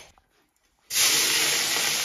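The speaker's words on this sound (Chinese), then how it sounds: "起锅，倒入新鲜的胡麻油" Fresh flaxseed oil hits a hot wok in a rural Gansu home kitchen, a sudden loud hiss that bursts in after a quiet moment and holds steady, close by.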